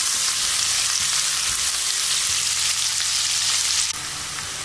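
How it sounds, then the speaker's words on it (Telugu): Onions and curry leaves fry in a pan for tomato kurma, giving a steady, loud sizzle with faint stirring scrapes throughout, no talking over it. "ఇప్పుడు ఆనియన్స్ ని 1 నిమిషం వేగనివ్వండి."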